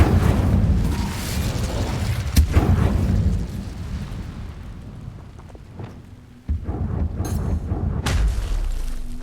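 A fire spell cast in Hogwarts Legacy bursts out with a loud whooshing rumble and crackling flames, followed by several booming impacts and a sustained roaring tail.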